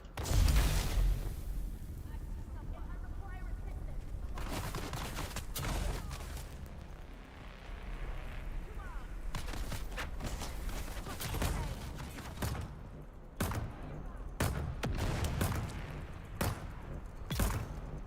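Automated turrets in the game Dune: Awakening fire repeated heavy bursts, loud and close, with sharp shots cracking through a continuous rumble of gunfire.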